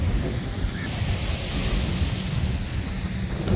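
Steady, continuous roar of sea waves washing in, mixed with wind buffeting the microphone, with no voices.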